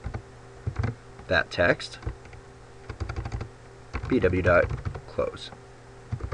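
Code typed on a computer keyboard in quick irregular bursts of clicking keystrokes, close and fairly quiet, with someone talking over parts of the typing.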